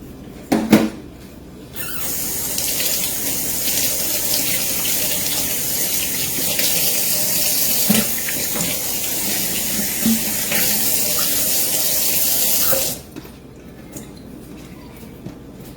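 A kitchen tap runs over cooked lobster meat in a sink, a steady rushing stream lasting about eleven seconds, close and clear, with a few knocks at the start and fading back to quiet room sound.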